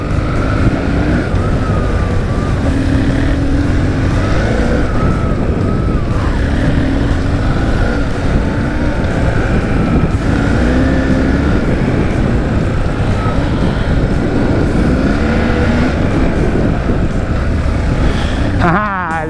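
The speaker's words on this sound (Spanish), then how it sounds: "Ah, le voy pillando el truco a esta moto" A BMW R1150GS motorcycle engine drones steadily at high load while riding, loud and close throughout, with rising and falling engine tones and heavy wind rush.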